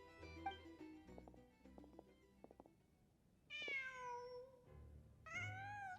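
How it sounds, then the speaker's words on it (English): A cat in Genshin Impact meows twice, two clear separate meows about two seconds apart, over quiet game music and ambience. "Just a cat."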